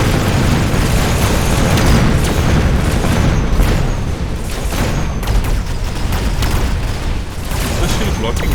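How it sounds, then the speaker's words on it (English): Dense, continuous barrage of rocket explosions hitting energy shields in the mech strategy auto-battler Mechabellum, with booming, crackling bursts layered thickly and loudly throughout without a break. "Is the shield blocking the rockets?"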